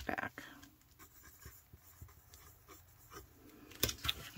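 A pen scratching across paper while writing in a handmade flip-flop journal, faint intermittent strokes close by, with a person speaking softly between them.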